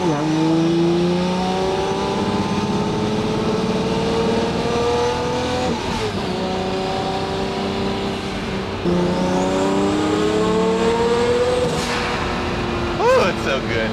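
A Lamborghini Murcielago with carbon ceramic brakes revs hard on the move, its loud engine note climbing through rising sweeps, dropping at two gear changes, then climbing again, with brief tire noise near the end.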